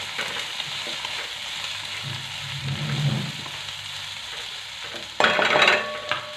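A paste of coriander stems and coconut roasts in a pan until red, crackling with a steady close sizzle, then flares into a loud spitting fry burst near the end as it is stirred.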